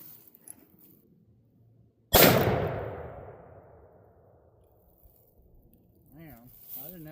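A single loud report from a .460 S&W revolver firing a full-power 454 Casull round, 240 grain XTP, outdoors; the blast cracks sharply and fades over several seconds. Quiet room tone precedes it, and a voice speaks briefly near the end.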